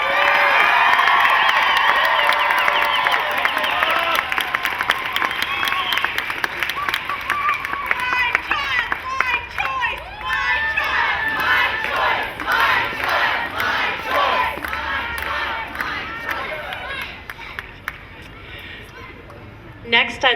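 A large crowd at a rally on the Capitol steps in Sacramento whoops, yells and cheers loudly, with scattered clapping, and the roar slowly tapers over about twenty seconds.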